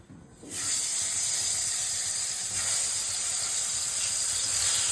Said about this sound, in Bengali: প্রথমে বেগুনগুলোকে একটু ভেজে নেব।